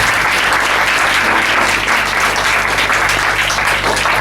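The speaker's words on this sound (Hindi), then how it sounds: "ताली बजाएंगे परमेश्वर।" A church congregation at a Hindi-language Christian service breaks into sustained applause, steady and dense throughout, with a low hum underneath.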